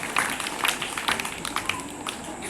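A crowd of parents clapping steadily at a school event, many hands at once, fairly close and continuous over a roomy background.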